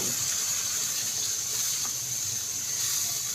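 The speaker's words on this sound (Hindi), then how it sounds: "मैं 2 गिलास पानी डाल दूँगी।" Water gushes in a steady pour into a cooking pot of fried masoor dal and mutton, a close, continuous splash lasting a few seconds with no talking.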